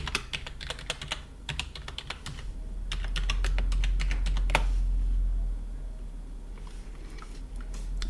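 Computer keyboard typing while signing in to Windows 10 with a username and password, quick bursts of close keystrokes with pauses between them, no voices.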